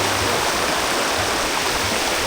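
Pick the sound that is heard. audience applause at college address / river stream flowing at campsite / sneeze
river stream flowing at campsite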